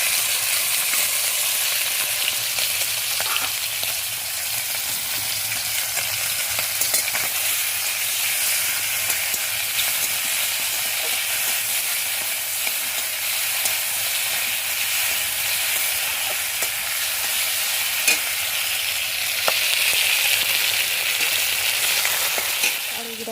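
Food frying in hot oil in a kadai, a constant dense sizzle that stays steady and fairly loud throughout, with occasional faint clinks and stirring.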